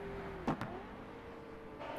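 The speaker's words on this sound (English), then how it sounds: "that backfire noise" An exhaust backfire in a racing video game set at the Dundrod Tourist Trophy circuit gives two quick, sharp pops close together over a steady, faint engine drone.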